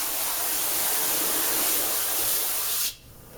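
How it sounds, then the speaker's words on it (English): A steady hiss of water spraying from a nozzle onto a screen printing frame during degreasing for about three seconds, then cutting off abruptly into quiet. "I'm going to give this one more little spray."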